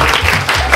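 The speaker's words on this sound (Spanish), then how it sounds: "aplauso para aplauso." A short burst of applause from a small group at a family gift-giving gathering, loud and close, a dense brief clatter of clapping.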